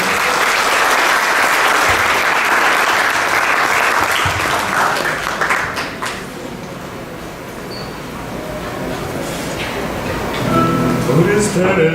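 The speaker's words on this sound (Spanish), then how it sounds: "Fuerte el aplauso." Enthusiastic audience applause for two law students at a school ceremony, dense and loud clapping that swells at the start, dips in the middle and rises again near the end, with a few voices audible beneath it.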